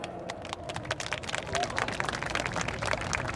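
Audience applause greets a Korean singing group at a civil servants' union rally, a dense, steady patter of many hands clapping throughout, with crowd noise mixed in.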